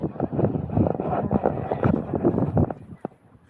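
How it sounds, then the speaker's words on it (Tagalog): Loud, gusty wind buffets the microphone in a continuous rumbling roar, with no clear voices over it. "Ang lakas nga ng hangin"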